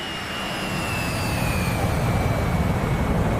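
A Flanker jet in the DCS flight simulator roars steadily and loudly, with high whining tones that slowly drop in pitch over the continuous engine noise.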